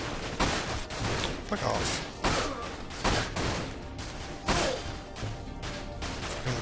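Gunfire in the video game Dirge of Cerberus: repeated heavy shots and impacts in irregular bursts, loud and close, with a voice cursing briefly over the shooting.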